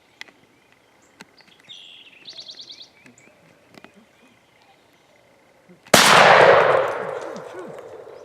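A single loud shotgun blast fired at a wild turkey erupts sharply and close, its roar decaying over about two seconds, after quiet outdoor ambience with faint birdsong and small rustles.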